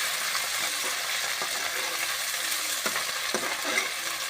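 Grated raw turmeric and chunky red tomatoes sizzle steadily in a pan for a spinach dish, with close, continuous frying hiss and a few soft scrapes and clinks from stirring.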